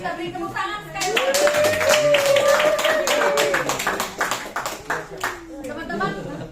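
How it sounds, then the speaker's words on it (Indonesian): Audience applause at an Indonesian talk event after a speaker, Pak Gembong, is thanked: steady dense clapping across the room, with a voice speaking over the applause throughout. "Kita beri tepuk tangan sekali lagi."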